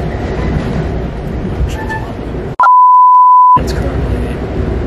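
A passenger auto train to Florida rolls on its rails with a loud, continuous rumble. A sharp, steady electronic beep cuts in for about a second midway, then the rolling noise returns.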